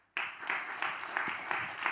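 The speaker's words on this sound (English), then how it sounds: "Another round of applause." After a short silence, a room of listeners bursts into applause at the close of a talk at a Berlin venue, steady clapping from a modest crowd with a few sharper claps standing out.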